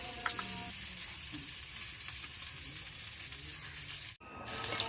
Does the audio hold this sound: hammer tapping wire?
no